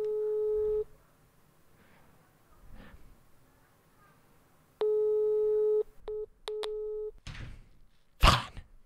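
A phone call goes unanswered, with long steady tone beeps repeating at intervals, clear and close, and brief talk and a sharp noise burst between them.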